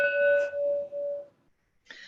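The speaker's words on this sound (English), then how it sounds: "So ring the bell." A single bell is struck and rings out clearly with a sustained, slowly fading tone for over a second, followed by silence and then a brief faint jingle.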